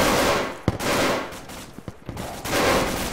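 Heavy bursts of automatic gunfire suppressing a building, loud and sustained with a sharp single crack and short pauses between volleys before the shooting resumes.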